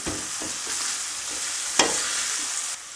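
Cumin and salt being stirred in a pan on the stove, a steady soft sizzle with scraping spoon strokes and a sharp clink near the middle, close and alone without talk.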